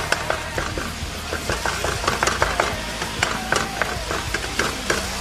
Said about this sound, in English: We got our chopped meat cooking here.